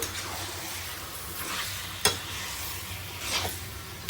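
Chicken is stirred with turmeric in a pot, giving a soft continuous sizzle close by with a sharp scrape or knock of the utensil midway and light stirring swells, no voices.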